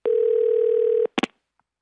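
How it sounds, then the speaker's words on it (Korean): A mobile phone dial tone rings out as a call is placed, one steady loud tone lasting about a second, then a few short clicks and a faint blip after it cuts off; no talking. "그러더니 갑자기 휴대전화를 들고 전화를 거셨습니다"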